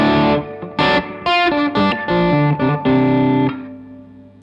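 An electric guitar runs through a Tubesteader Lightkeeper Dumble ODS-style tube preamp with the boost engaged, playing a few loud, slightly driven chords and single-note bursts with short gaps, ending in a ringing decay.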